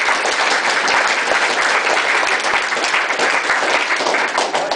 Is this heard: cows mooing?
no